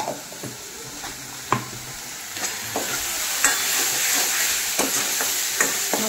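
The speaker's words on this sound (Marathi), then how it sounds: "छान फोडणी बसली, फोडणीचा असा तडतडलेला आवाज आला ना" Spices crackle and sputter in hot oil for a phodni tempering of whole masoor, a continuous close frying hiss punctuated by irregular sharp pops and stirring clacks throughout.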